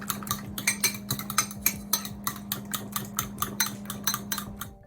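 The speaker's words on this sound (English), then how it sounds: "I'm gonna scramble them." Utensil whisking eggs mixed with chopped vegetables in a bowl, a steady run of quick clinking strokes against the bowl's sides, close and fairly loud with no talking.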